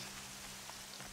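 Steady rain in the Horizon Zero Dawn video game, a constant soft hiss of drops falling on surfaces with no voices, even and unbroken throughout.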